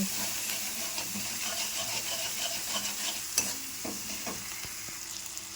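Spices fry in a pan with ginger-garlic paste and tomato for a fish curry, a soft steady sizzle with a few stirring clinks and a sharp knock, fairly quiet and close.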